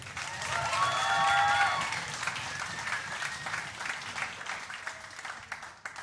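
A comedy club audience applauds and cheers for an arriving comedist, a dense, loud wash of clapping with whistles and shouts that peaks early and then eases slightly while continuing steadily.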